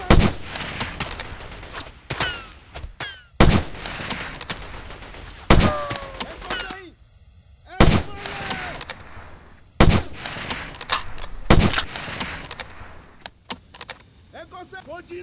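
Loud, sharp gunshots ring out at spaced intervals in Delta Force 2 on PC, each crack trailing into echoing decay, with radio-style voices and keyboard clicks between the shots.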